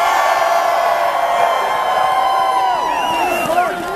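A huge Groundhog Day crowd at Punxsutawney cheers and whoops continuously, a dense roar of many voices with scattered rising shouts, loud and sustained throughout.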